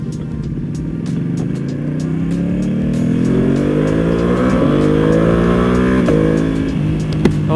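The engine of a heavily modified Yamaha R1M motorcycle revs up repeatedly, its pitch sweeping higher and swelling in loudness, close and unaccompanied by talk.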